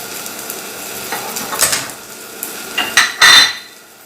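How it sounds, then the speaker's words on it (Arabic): Mushrooms and onion sautéing in a pan sizzle steadily, with a few sharp, close scrapes and clatters of a utensil stirring against the pan, loudest near the end. "هنشوح المشروم دلوقتي مع بعض"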